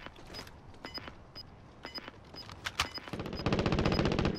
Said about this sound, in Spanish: ¡Ay, acá abajo tenemos disparos!